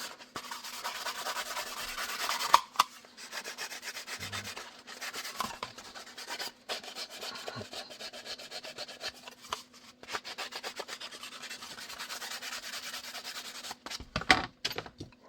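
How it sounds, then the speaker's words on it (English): Sheets of 1000 grit drywall sandpaper rub against the Safariland holster in repeated back-and-forth strokes, a soft, raspy scratching that comes in bursts with brief pauses and some handling knocks. "this is a 1000 grit drywall sandpaper"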